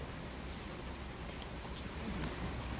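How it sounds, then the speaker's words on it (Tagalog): Steady rain falls outdoors for the full stretch, a dense even hiss of drops hitting surfaces with no breaks or thunder. "Naulan."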